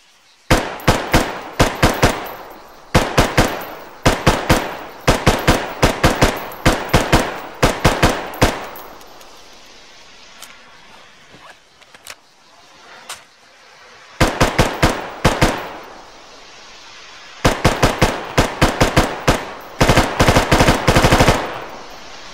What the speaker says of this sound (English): This full auto sounds so satisfying.